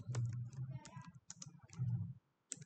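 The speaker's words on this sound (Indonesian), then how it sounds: "Lalu ketikkan sudo apt install" Bursts of clicky keystrokes on a computer keyboard typing a Linux terminal command, close and quiet, in uneven runs with short pauses and a final isolated tap.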